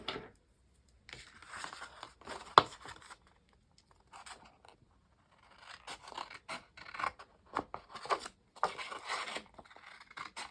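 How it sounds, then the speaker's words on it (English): Scissors snip through paper along a fold line while making a paper rose hair accessory, a close, quiet run of separate crisp cuts with short pauses between them. "we're just going to cut along this line"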